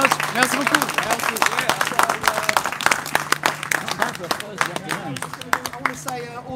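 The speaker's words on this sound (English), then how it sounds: "give him another round of applause, everyone" An audience at St. Pancras Station applauds a boogie woogie pianist with dense, lively clapping that gradually thins toward the end, while people talk over it.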